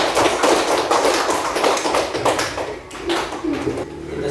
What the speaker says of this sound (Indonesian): itu tepuk tangan untuk Nona dulu yang sudah membaca teks